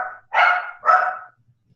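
Dog barking at a house, two loud, close barks in quick succession, then quiet.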